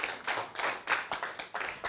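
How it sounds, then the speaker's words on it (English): A group claps a short rhythmic pattern in unison during a wellness workshop, crisp bursts of hand claps arriving in clusters of three and four, close and fairly quiet, with no talking. "When I say señorita, you clap 1, 2, 3, 1, 2, 3, 1, 2, 3, 4."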